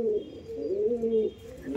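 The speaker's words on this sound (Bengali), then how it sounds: "দেখুন এটা নর পায়রা" A golden-eyed male pigeon coos in a soft, close, wavering murmur that swells and dips for under two seconds, alone with no talk.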